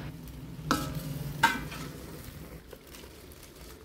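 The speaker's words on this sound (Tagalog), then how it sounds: "make sure lang halu-haluin din natin para lahat ng ating gulay ay makoat nitong ating pampalasa" Chop suey vegetables being tossed and stirred with seasoning in a pan, with a couple of sharp utensil scrapes over a soft continuous sizzle.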